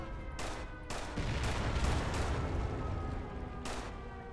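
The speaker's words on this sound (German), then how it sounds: "Er schießt dann rum." Gunfire in the World War II shooter Enlisted comes as a rapid volley of loud sharp shots clustered over the first two seconds, followed by one more distant crack as battle noise lingers.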